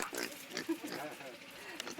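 Snorting pig grunts and oinks close by in the Pantanal, mixed with voices talking over them.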